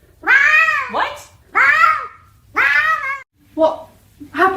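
A house cat meows loudly and close by, giving five drawn-out, wavering cries in a row with brief pauses between them, almost like complaining speech.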